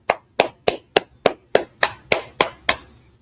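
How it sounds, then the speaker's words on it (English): Hand claps ring out in a slow, even beat of about eleven sharp strikes at a news desk studio in Harlem, New York. They sound close, distinct and unaccompanied, more like a single clapper than a crowd. "Clap it up."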